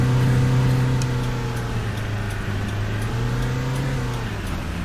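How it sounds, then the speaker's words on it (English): Coach bus engine in Fernbus Simulator droning at high revs, a loud steady low hum with sustained tonal layers and no break, sounding over-revved. "about the engine sounds, about sound like we're over revving it"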